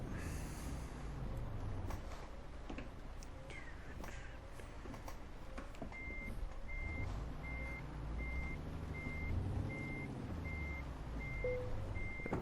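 In Euro Truck Simulator 2, a truck reverses toward a trailer. Its engine rumbles low and steady while a repeating reversing beep starts partway through and keeps an even on-off rhythm, with faint crow caws in the background.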